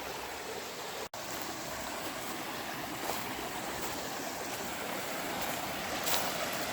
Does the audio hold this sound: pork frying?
no